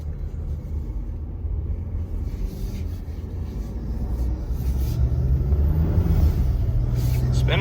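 A 2015-2020 Ford F-150 truck spins its tires, a heavy low rumble and roar that swells louder toward the end, with no one speaking over it.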